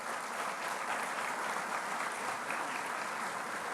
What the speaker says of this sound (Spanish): Un aplauso pues para Fernando Belaúnde.